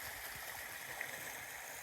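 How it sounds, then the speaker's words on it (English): Water running steadily around a spot dammed up with tree debris, flowing over the ground outdoors; a soft, continuous broadband rush, fairly faint and even throughout. "the water is flowing around it."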